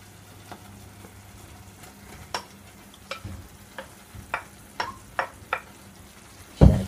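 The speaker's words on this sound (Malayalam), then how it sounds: "ഇനി നമ്മൾ ഇതിനകത്തോട്ട് നമ്മൾ എടുത്തു വെച്ചിരിക്കുന്ന പിണ്ടി കൂടി ഒന്ന് ചേർത്ത് കൊടുക്കാം." Chopped banana stem being stirred into payasam cooking in a pot, heard as a series of light spoon clinks and taps against the vessel over a faint low simmer, ending in one louder knock.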